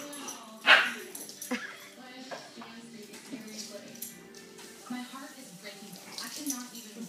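A dog gives a loud close yip, then repeated softer whimpers and whines, heard through people talking nearby.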